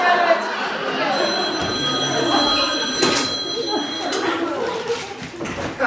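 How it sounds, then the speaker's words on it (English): A telephone ringing as a stage sound effect during a comic theatre play, a bright ringing burst heard against audience noise and stage bustle. "Another phone call, Arthur."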